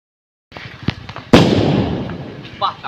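A Diwali auto bomb firecracker goes off with one loud, close bang that rumbles away, preceded by faint small pops, with voices nearby.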